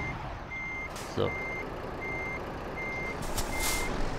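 Repeated reversing beeps from a Scania truck in reverse gear in Euro Truck Simulator 2: steady, evenly spaced electronic tones over a low engine rumble, with one brief word spoken.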